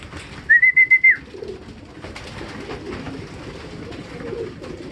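Racing pigeons in a loft make a short burst of five quick whistled coos near the start, then soft rustling and faint bird movement for the rest, no voices.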